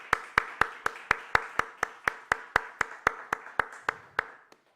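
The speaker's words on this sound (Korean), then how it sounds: "우리 한번 큰 박수로 감사의 박수 한번 드리겠습니다" A congregation at a Wednesday worship service claps in thanks, a strong, evenly timed beat of about eighteen claps that fades out at the end, with no talking.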